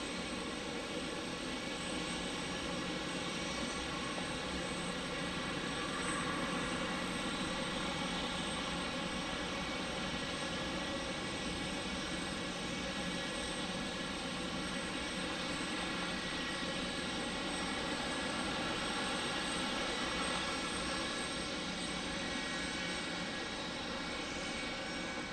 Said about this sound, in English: It is not an Embraer. It is actually a Boeing 717.